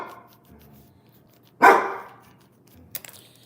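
A dog barks once, sharply and loudly, indoors after dark, breaking a quiet room; a few faint clicks follow a moment later.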